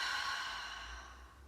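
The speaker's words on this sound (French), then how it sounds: "Et expire." A child's exhale during a yoga breathing exercise, a single soft, airy breath out that tapers gradually, close and fairly quiet with a low hum beneath.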